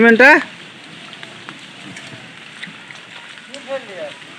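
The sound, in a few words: heavy rain falling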